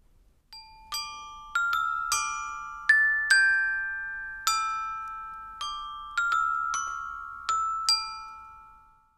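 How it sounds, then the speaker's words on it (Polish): Glockenspiel bars struck one note at a time, about a dozen clear ringing tones in a slow melodic line, each bright strike decaying into a sustained shimmer, close and alone. "Dzwonki mają tych sztabek oczywiście dużo mniej, ale ich dźwięk jest bardzo charakterystyczny."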